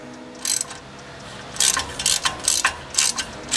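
Ratchet working loose the axle bolts on a Jeep TJ, a few short bursts of clicking close by and fairly loud, separated by brief pauses, with no talk.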